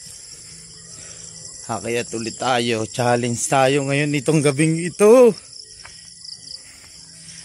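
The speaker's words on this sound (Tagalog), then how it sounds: "marinig nyo lang dito, kuliglig" Crickets chirp at night in a high, steady shimmer throughout, nearby and constant, while someone talks over the middle stretch.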